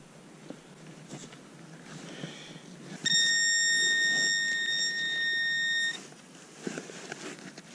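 A metal detector sounds a steady, loud electronic tone lasting about three seconds over soft outdoor background rustling on a footpath.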